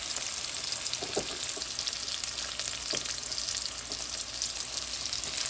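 Garlic, mustard seeds, fennel and chillies frying in hot oil, a continuous bright sizzle with occasional pops and a few utensil knocks, close and steady.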